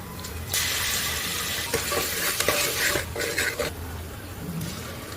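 Tomato, ginger-garlic paste and onion sauté in hot oil in a pan, a continuous sizzle with repeated scraping and stirring strokes of a spoon against the pan.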